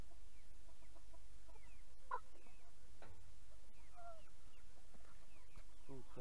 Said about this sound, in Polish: Tu też kogut, kura.